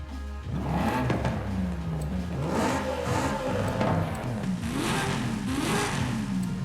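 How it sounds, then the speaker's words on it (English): A stock straight-six race car engine in Forza Horizon 5 revs steadily at close range, with rising and falling pitch over a continuous loud drone. "I think we've heard enough of the stock engine."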